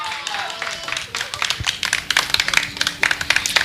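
An audience claps in support of a speaker at a public debate, with scattered sharp claps building into a run of quick, fairly close hand strikes while voices continue underneath.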